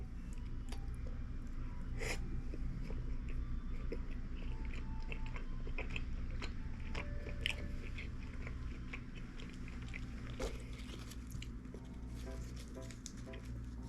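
Someone eating pork trotters (jokbal) at home during a late-night mukbang, with soft, close chewing and biting noises scattered over a steady low hum, and no talking.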